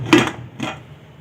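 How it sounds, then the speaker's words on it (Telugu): A metal lid is set onto a pressure cooker while a sweet mango pickle cooks, making two short, close clanks about half a second apart, the first louder, then quiet. "మూత వేస్తున్నాను"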